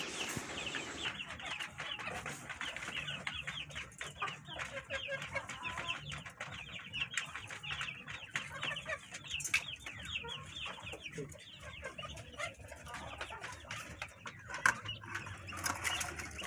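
Small caged chickens cluck and cackle continuously, with many overlapping rapid calls up close and a few louder squawks rising above the busy chatter.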